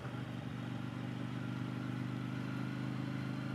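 A 2022 KTM 890 Duke motorcycle engine hums in a steady, even drone while riding, holding a constant pitch with road and wind noise throughout.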